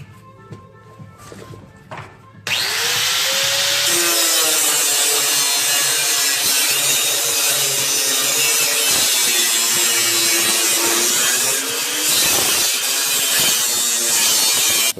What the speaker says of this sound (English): I might end up cutting it across here with my grinder so I can get a really nice access to it